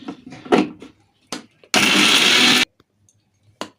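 A kitchen mixer grinder whirs loudly in one sustained burst of just under a second, blending a masala paste of sesame seeds and cashews with water, bracketed by brief clatters and handling knocks before and after.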